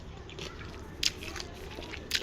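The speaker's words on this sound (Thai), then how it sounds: "เสียงเคี้ยวเนาะ" Close-up chewing of an unripe banana dipped in salt: soft, moist mouth sounds with two sharper crunchy bites.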